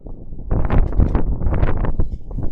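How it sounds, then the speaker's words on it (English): Gusty wind buffets the microphone, a rough, rushing roar that swells and fluctuates without letup. "It's getting very windy here."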